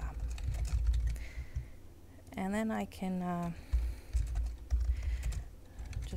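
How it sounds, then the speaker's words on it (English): Soft typing on a computer keyboard while a student works in Google Docs, with quick clustered keystrokes heard faintly beside a person speaking. "just start typing."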